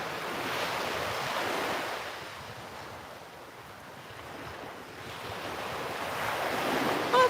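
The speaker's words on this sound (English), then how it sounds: "the waves are amazing." Ocean waves surge and recede in a continuous wash of surf, swelling, easing off in the middle, then building again, with wind buffeting the microphone and no voices.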